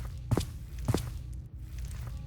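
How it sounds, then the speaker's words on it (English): Approaching footsteps in the Edna and Harvey point-and-click adventure game: two soft, evenly spaced steps about half a second apart, over a steady low background hum. "then she heard approaching steps"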